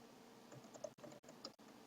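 Quiet keystrokes on a computer keyboard come in an irregular run of soft clicks and taps, close by and alone, with a few brief pauses between them.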